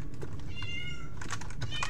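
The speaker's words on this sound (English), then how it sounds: "my cat's furiously meowing" A cat meows insistently, with several close, strained yowls over a faint background of clicking keys.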